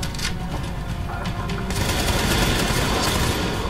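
Rapid gunfire aimed at a turret and an enemy in The Division, a dense, loud volley of shots and impacts that swells and grows heavier partway through.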